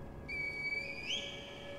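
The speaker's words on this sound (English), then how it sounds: "Call of the Vine Air with a reed whistle?" A reed whistle in the Sekiro video game sounds one sustained, clear tone that rises in pitch near the end, moderately loud against a quiet background with no talking.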